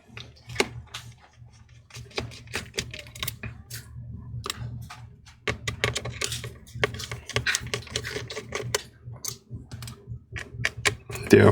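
Small screws being backed out of a MacBook Air A2179 laptop with a precision screwdriver, a close run of fine clicks and ticks, with occasional low voice in the background.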